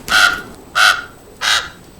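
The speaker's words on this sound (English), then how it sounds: "Don't listen to it. Crows are all liars." A crow caws three times in steady succession, each call loud, harsh and close, with short quiet gaps between and no other sounds around it.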